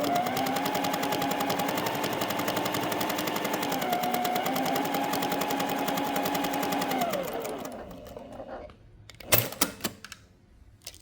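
A sewing machine stitches quilt fabric in a fast, even run of needle strokes for about seven seconds, then slows and stops, followed by a few sharp clicks and knocks of handling.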